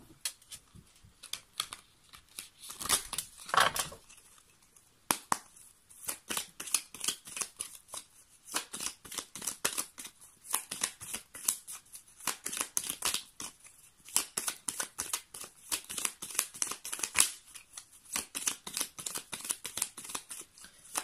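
Tarot cards are shuffled and drawn by hand, a long run of quick, crisp riffling snaps and soft card slaps that come in uneven bursts, close and fairly quiet, with no talking.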